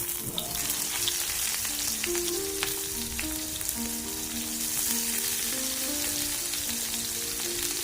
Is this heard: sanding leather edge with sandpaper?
no